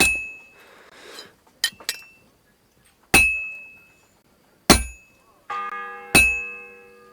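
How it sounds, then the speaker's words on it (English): A church bell tolls in the medieval game Kingdom Come: Deliverance II. Several sharp metallic strikes come about one and a half seconds apart, each leaving a ringing tone that fades away. "The first bell. Another 11 to go."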